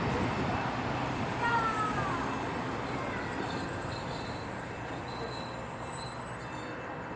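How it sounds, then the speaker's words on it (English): A train rolls into the station at Bansko, Bulgaria, with a steady rumble of wheels on rail and high thin squeals from the braking wheels, continuous and fairly close. "you can see the arrival of the train"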